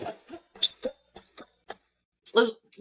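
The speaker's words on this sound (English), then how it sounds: "Sorry, I have to cough." A few short, dry coughs close to the microphone, spaced out in quiet bursts, ending with a louder, harsher cough.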